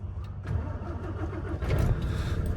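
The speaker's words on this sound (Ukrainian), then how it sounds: "Ні, дуже добре заводиться, дуже класна машина." A MAN TGL truck's diesel engine cranks and fires up on a cold morning, a low rumbling idle building and settling, close by and with no one talking.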